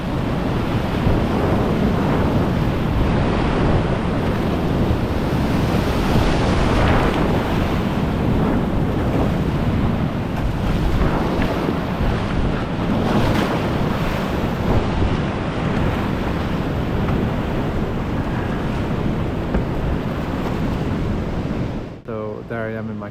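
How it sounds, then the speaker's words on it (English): Huge crashing waves of river rapids in Cataract Canyon, heard from a kayak running a drop, roaring loud and continuous with heavy wind buffeting the microphone throughout, cutting off abruptly at the end. "just huge crashing waves"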